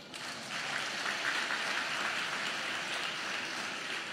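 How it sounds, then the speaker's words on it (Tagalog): Steady, even applause from a congregation at a Sunday general worship service fills the room, a dense continuous patter that swells slightly after the first half second and holds without pause. "Baka gusto nyo pumalakpak"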